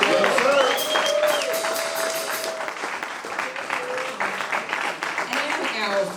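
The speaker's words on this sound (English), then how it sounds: "a special round of applause for our sound man" Audience applause at a 45th anniversary event, a steady wash of clapping throughout with a few voices and cheers mixed in, fairly loud and sustained.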